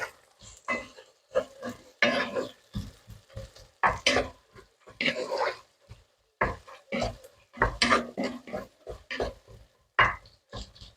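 Lasagne filling frying and being stirred in a pan in a home kitchen: a close, irregular series of scraping, sizzling bursts with short pauses between strokes, loud and alone.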